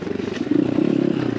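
An X Pro Templar 250cc dirt bike rolls over loose pebbles on a trail, with a close, steady engine drone and stones clattering and crunching under the tires.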